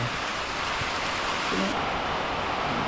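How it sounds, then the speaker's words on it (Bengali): A sudden shower of rain falls at a Marma Buddhist monastery in Kaptai, Rangamati, a steady close hiss of rain patter with a faint murmur of voices beneath. "হঠাৎ করে বৃষ্টি চলে আসছে"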